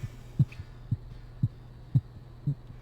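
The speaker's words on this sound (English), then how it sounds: "Is the heartbeat getting faster?" Steady, muffled heartbeat from The Cat Lady video game, thumping evenly about twice a second over a low hum, alone with no talk.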